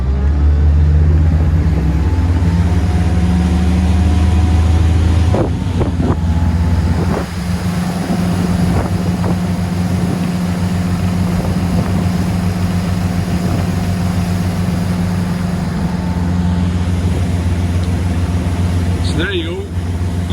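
A Jeanneau Leader 805 boat with a Volvo Penta D4 260 hp diesel accelerates from half throttle onto the plane. The engine drones loudly and continuously with a steady low hum, backed by rushing water and wind noise.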